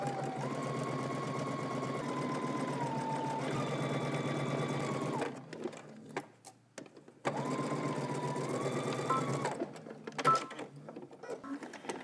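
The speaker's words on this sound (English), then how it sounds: "we're gonna head to the sewing machine. We're gonna stitch this together using 5/8 of an inch seam allowance" A sewing machine stitches a 5/8-inch seam on a dress bodice for a Simplicity S9917 pattern, whirring in two steady close runs separated by a short pause, with no talking.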